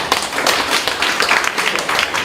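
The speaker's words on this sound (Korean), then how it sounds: "이때는 박수를 쳐야 돼요" Clapping from an audience at a Korean political talk, a dense burst of many hands that is close and fairly loud throughout.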